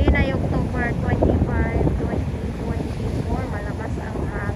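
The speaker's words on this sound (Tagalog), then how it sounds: "Malakas ang hangin. Dahil nga po ay si Bagyong Christine." Strong wind from Typhoon Kristine roars steadily across the microphone at a harbor by the sea, a dense continuous rumble with a person speaking underneath it.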